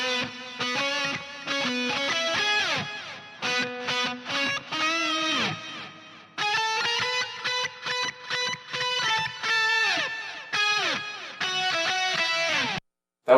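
A distorted electric guitar part in a video game cover, doubled by a second take an octave lower, plays a melodic line of sustained and quick notes, loud and up close, with short gaps between phrases.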